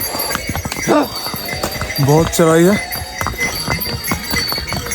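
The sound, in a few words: horse hooves clip-clopping on mountain trail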